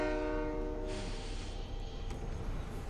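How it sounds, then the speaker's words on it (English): A train in the Fortnite video game rumbles past with a steady low roar and a sustained horn-like tone, heard at moderate distance throughout. "They got on the train or something."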